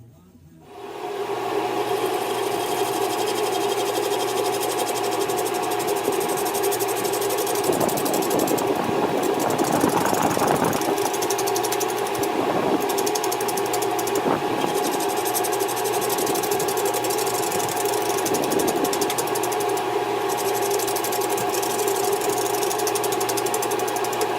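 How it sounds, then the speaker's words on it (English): A loud, steady mechanical roar of a woodworking dust collector running continuously during cedar bowl turning, with a motor hum and faint knocking, no voices. "I'm fixing to turn on my dust collector. So it's going to be pretty noisy."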